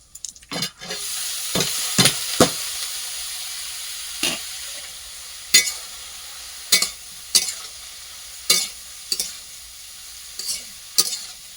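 Bottle gourd pieces tumble into a hot pan and fry, starting with a burst of crackling, then a steady sizzle punctuated by about a dozen sharp spatula scrapes and clanks spaced a second or two apart.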